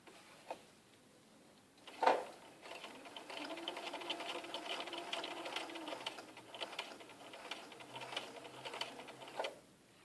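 A sewing machine stitches a patch-method bound buttonhole, its running hum beginning after a sharp click near two seconds and continuing steadily at close range with light mechanical ticks, then stopping with another click near the end.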